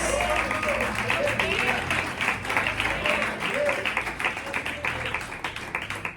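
Congregation giving strong applause for Jesus during a Portuguese church sermon, dense rhythmic clapping that swells and pulses, with a voice speaking over it.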